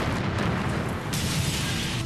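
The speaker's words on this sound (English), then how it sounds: "the air is shattered by a massive explosion" A massive bomb blast outside the US Embassy in Nairobi, heard as a loud, dense rumbling roar that fills the whole stretch without letting up.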